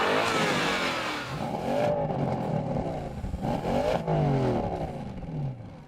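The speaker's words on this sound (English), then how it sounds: "its V8 can also deliver a roar." A Porsche Panamera's 4-liter twin-turbocharged V8 roars loudly and close by, its revs climbing and falling in repeated surges, with no talk over it.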